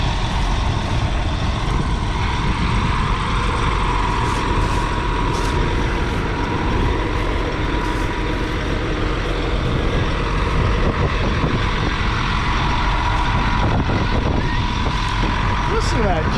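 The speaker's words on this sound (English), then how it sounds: "Listen to that John Deere diesel just purr." Loud, steady rumble of a John Deere diesel tractor engine running continuously up close, with a constant low drone throughout.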